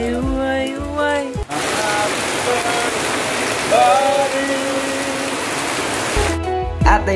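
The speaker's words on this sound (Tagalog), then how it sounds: "kaya hinihintay muna namin tumigil ang ulan para makapunta na kami sa aming bahay" Heavy rain pours steadily in a rural Philippine village, a dense even hiss of downpour filling the scene, loud and close, with brief tonal sounds at the start and end.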